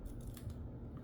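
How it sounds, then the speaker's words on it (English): A pair of scissors cuts paper hearts in a brief, close, faint run of soft crunching snips with no one speaking. "sizes of hearts, which I'm gonna cut right now, just randomly cut"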